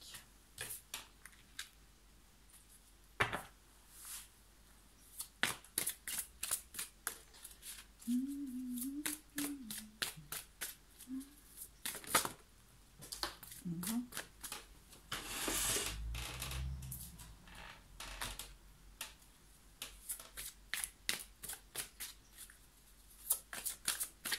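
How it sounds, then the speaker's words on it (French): Tarot cards being shuffled and handled during a card reading, giving many sharp, rapid riffling clicks and flutters in irregular bursts, close and fairly quiet, with no voices. "Si le tirage de cartes c'est trop long, vous faites avance rapide."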